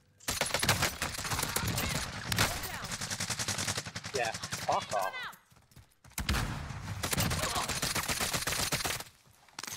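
Rapid bursts of gunfire from a DMR rifle tuned for no recoil in Call of Duty: Warzone, loud and close, with short pauses between volleys and someone talking over parts of it.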